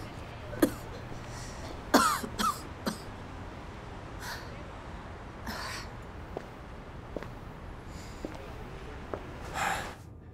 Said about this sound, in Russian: У вас кашель так и не прошел.